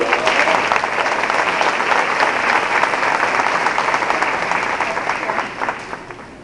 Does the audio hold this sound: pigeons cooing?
no